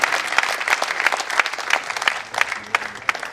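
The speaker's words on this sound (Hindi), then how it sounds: "एक बार जोरदार तालियों से" Vigorous applause from the crowd at a Hindi poetry gathering (kavi sammelan) in Mumbai, greeting a poet; close, dense clapping with sharp individual claps standing out throughout.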